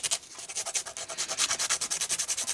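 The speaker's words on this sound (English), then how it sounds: "sand it a bit." A small part for a 1:144 scale miniature house gets sanded by hand in quick, rhythmic back-and-forth strokes, about a dozen soft, raspy rubs, close and alone.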